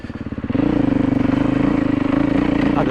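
A dirt bike engine chugging along a rocky, wet and muddy trail on an adventure ride, close and loud with a rapid pulsing thump that rises as the throttle opens.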